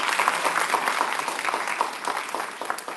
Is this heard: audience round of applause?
yes